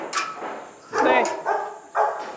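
Big guard dogs, an Alabai, a Boerboel and a Cane Corso, give several deep barks and yips in uneven bursts, fairly close and mixed with people talking.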